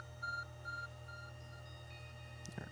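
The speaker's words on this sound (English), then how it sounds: "Our phone is beeping." In Pokémon Legends: Arceus, an in-game phone beeps three short, soft, evenly spaced tones, followed by a quiet click and rustle. The sound is faint and no one speaks.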